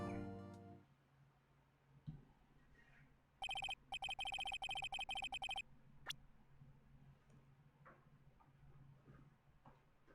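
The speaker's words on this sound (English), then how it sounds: "Sorry, my phone went off." A phone rings in one loud electronic burst of about two seconds amid quiet room noise, followed by a sharp click.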